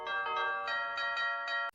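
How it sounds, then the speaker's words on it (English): Doofenshmirtz's doorbell from the Phineas and Ferb cartoon rings out the Evil Incorporated jingle as a run of clear, bright chime notes in a bouncy rhythm before cutting off abruptly. "Doofenshmirtz Doorbell Ring, which is the Evil Incorporated song"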